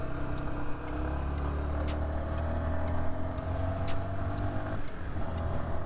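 A 2022 Yamaha XSR125 125cc motorcycle engine pulls steadily up through the gears, its close, continuous drone shifting pitch briefly near the end as the next gear is taken.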